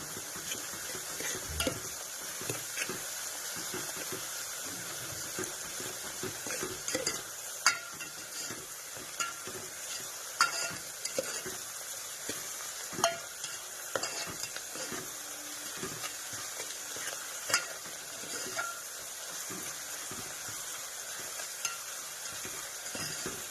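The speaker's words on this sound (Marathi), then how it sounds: "हळदी लाल तिखट आणि नमक टाकून घेतलेले मस्त फ्राय करून घेतले" Turmeric, red chili powder and salt fry in hot oil with a soft, steady sizzle, while a spatula stirs and scrapes against the pan in repeated light knocks and clinks, fairly quiet and close.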